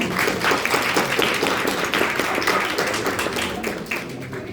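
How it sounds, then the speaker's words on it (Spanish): A classroom audience at a physiology and pathophysiology presentation session applauds a student group, a dense continuous patter of many hands clapping at fairly loud, even level, thinning slightly toward the end. "Palmas para el grupo."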